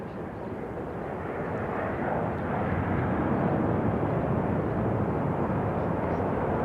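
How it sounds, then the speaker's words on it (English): A Southwest Airlines Boeing 737-800 jet arriving at Raleigh-Durham from Orlando gives a steady, broad engine roar that swells slightly and holds loud throughout, with no talk over it. "Southwest 737-800, flight 2543 from Orlando. Coming in from the House of Mouse."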